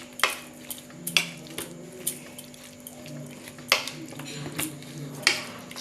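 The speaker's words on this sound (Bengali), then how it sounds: "সব চিকেনগুলোকে সুন্দর করে মাখিয়ে নিতে হবে।" Chicken pieces for chicken popcorn are worked together with salt in a bowl by hand, giving irregular clinks and soft wet knocks against the bowl at close range, with no one talking.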